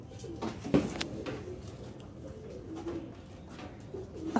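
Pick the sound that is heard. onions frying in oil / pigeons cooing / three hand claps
pigeons cooing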